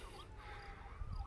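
A faint ambulance siren wails in the distance outdoors, its wavering tone rising and falling steadily beneath low street rumble, with a louder low thump near the end.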